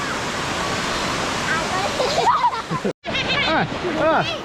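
Tad Sae waterfall in Luang Prabang, Laos, pours in a steady loud broadband rush, with people talking and calling out over the water in the second half.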